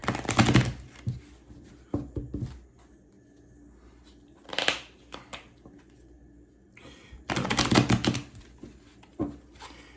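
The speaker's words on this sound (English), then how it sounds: "I'm going to shuffle these a little bit more" Tarot cards being shuffled and split by hand, heard as two dense bursts of crisp riffling and flicking at the start and again near the end, with softer scattered taps and card handling in between.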